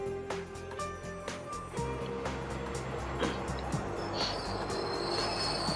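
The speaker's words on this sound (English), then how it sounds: "The train." A train rolls by in the anime fighting game Persona 4 Arena Ultimax, a steady rumble with rhythmic wheel clatter and high metallic squeals building toward the end, close and full, with no talking.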